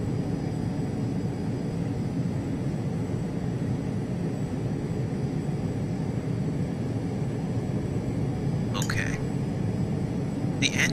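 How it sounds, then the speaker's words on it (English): Jet engines of a JetSuite aircraft in a VATSIM flight simulator spool up into a steady, broad roar that fills the cabin at constant loudness, with a couple of brief faint chirps near the end. "The engines on this plane are fairly timid. They kind of don't like coming up, but they eventually do"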